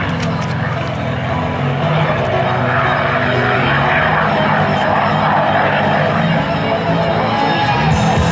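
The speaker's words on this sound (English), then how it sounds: "bring the Mustang in close for the photo pass" A P-51 Mustang propeller fighter roars past at a military air show, its loud, steady engine drone holding throughout with faint crowd noise beneath.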